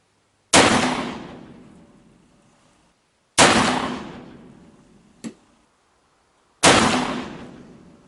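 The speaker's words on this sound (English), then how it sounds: "Alright, so we got her capped up and going to shoot at 25 yards." Three loud black-powder shots from a Pietta 1858 New Model Army percussion revolver fired at 25 yards outdoors, each a sharp crack with a long decaying rumble, plus a brief smaller click-like pop between the second and third.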